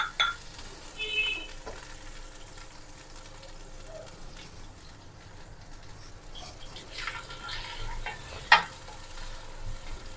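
Chicken frying in a pan with ginger and garlic, a quiet steady sizzle with occasional stirring scrapes and a sharper clatter near the end, no talking.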